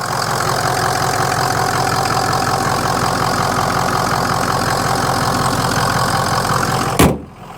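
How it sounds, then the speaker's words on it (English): A 2004 Ford Excursion's 6.0L Powerstroke diesel idles steadily and loud up close, a continuous rumbling clatter with a faint turbo whine riding on top, cutting off abruptly near the end. "you can hear the turbo spooling even at idle"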